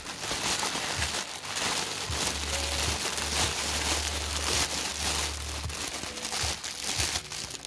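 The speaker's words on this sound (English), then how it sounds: "Oh, that crinkling's got to be terrible for audio." Plastic packaging crinkles and rustles continuously during the unboxing of D-Spirits plushies, loud and close, with handling crackles throughout and no talk.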